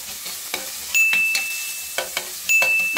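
Garlic, onion, tomato and edible fern sauté in a pan, giving a steady close sizzle broken by several scraping stirs and light utensil clinks against the pan.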